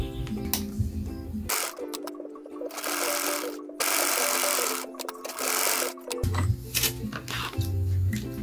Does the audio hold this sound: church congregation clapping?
no